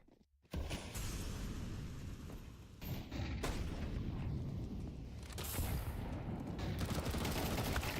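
SMG gunfire in Counter-Strike on the Overpass map: sustained rattle of rapid shots and clattering battle noise after a brief quiet start, steady and fairly loud to the end.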